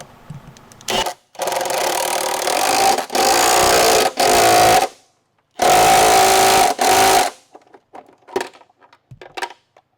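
Pneumatic impact wrench hammering on torque box bolts of a 1992 Fox Body Mustang coupe during reinforcement install, several loud rattling bursts of one to two seconds with short pauses, followed by quieter clinks and handling noises.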